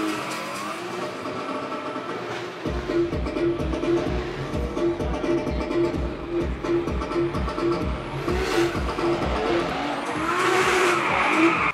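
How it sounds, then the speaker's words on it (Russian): A black BMW E30 drifting at a city-day motor show, its engine roaring in rapid rhythmic revving pulses with loud tire squeal building toward the end, close and dominant throughout. "свист покрышек, запах сжженной резины и рев двигателей"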